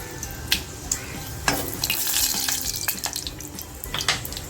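Bay leaf, black peppercorns, cloves and a cardamom pod sizzle and crackle in hot oil for a steam surmai fish masala, a steady close frying hiss broken by sharp pops and spoon scrapes, with no talking.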